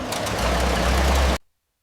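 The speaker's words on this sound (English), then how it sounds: "The engine's first rumble signaled the near completion of WWII Willys MB Jeeps." A WWII Willys MB Jeep engine rumbles at its first ignition inside a factory, a dense rough churning that runs loud for just over a second before cutting off sharply into silence.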